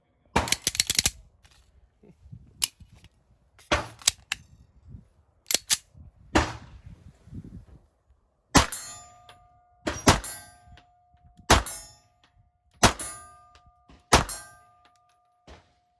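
Gunshots fired at a range, many hitting a steel silhouette target 35 yards away; sharp cracks come singly and in quick pairs, several followed by a ringing metallic ping.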